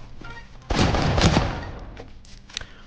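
An AK rifle fires in the Roblox game Mad City, one sudden loud blast or short burst that rings out and fades over about a second, with faint game sounds around it.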